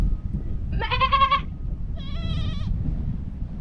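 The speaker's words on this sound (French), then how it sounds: "Vous voyez ce tas de chèvres?" Goats in the Lompoul desert of Senegal let out two clear, nasal bleats close by, the second slightly shorter, over a low rumbling background.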